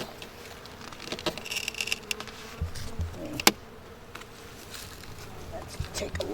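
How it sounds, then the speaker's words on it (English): Honey bees buzz around a hive entrance where they fly in and out, a soft continuous drone with scattered nearby passes and light taps, fairly faint in outdoor ambience. "because the bees fly in and out that way"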